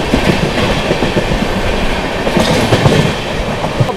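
The 12393 Sampoorna Kranti Express runs at speed while overtaking another train, with a steady loud roar and rhythmic clickety-clack of wheels over rail joints throughout.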